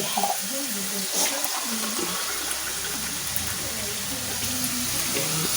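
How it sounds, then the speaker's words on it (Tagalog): A glass of water pours and splashes continuously into a pan while cooking escabeche, a steady rushing gush with some faint background sounds. "nilagyan ko ng isang basong tubig"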